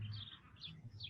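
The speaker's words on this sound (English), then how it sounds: "Quiet down, birds." Faint birds chirp outside a window in short high tweets. Three separate chirps stand out over a low, quiet background murmur.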